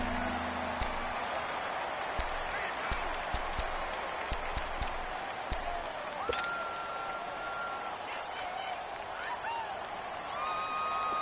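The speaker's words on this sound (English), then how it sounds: "the crowd getting into it as we come up on a big 3rd down" A stadium crowd roars steadily in a Madden 19 American football video game ahead of a big third down, a broad, continuous wash of cheering and scattered applause under the commentary.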